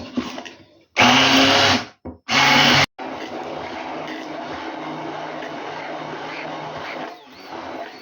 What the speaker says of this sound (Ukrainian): і перебиваю все блендером.